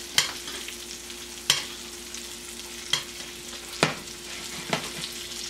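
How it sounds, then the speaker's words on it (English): Salmon cooks in butter in a pan, a steady soft sizzle punctuated by five sharp, evenly spaced spoon clinks and spattering bursts as hot butter is basted over the fish. "warm up the butter again, because we are basting it over cold fish"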